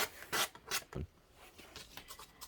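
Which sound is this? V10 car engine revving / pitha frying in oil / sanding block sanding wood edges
sanding block sanding wood edges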